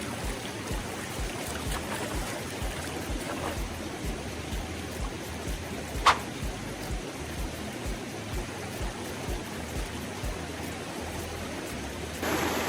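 A river flows with a steady, soft rush of moving water that stays fairly faint and even throughout, broken by one brief sharp knock, with no talking.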